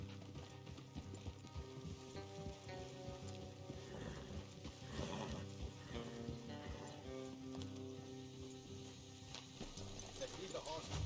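Horse hooves clip-clop amid in-game music and ambience in the Western video game Red Dead Redemption 2, with voices talking over the faint, steady hoofbeats.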